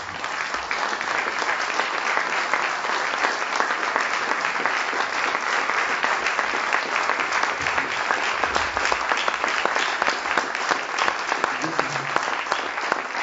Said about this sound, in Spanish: Agradezco los aplausos